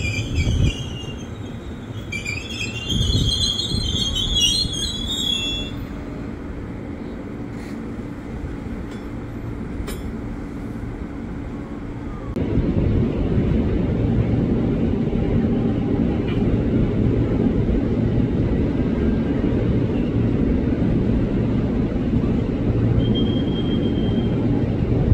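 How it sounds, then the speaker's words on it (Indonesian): A commuter train passes without stopping through Manggarai station, Jakarta, its heavy low roar building and growing louder midway, with a faint high whine near the end. "hati-hati kereta api akan melintas langsung 2 dari selatan."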